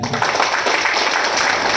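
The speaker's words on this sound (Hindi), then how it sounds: "मैं चाहूंगा इसके लिए जोरदार ताली बजा दीजिए" Audience at a direct-selling business presentation applauding together, a dense steady wash of many hands clapping that carries evenly for the whole short stretch with no voice above it.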